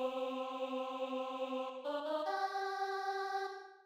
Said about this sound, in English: Okay, now in Game Verb, with anti-aliasing turned off, it sounds like this.